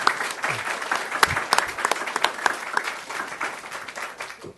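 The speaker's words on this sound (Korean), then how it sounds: "박수 한번 주시기 바랍니다." Applause from an audience at a Suwon city directors' meeting, a dense patter of many hands clapping at moderate level for several seconds, tapering at the end.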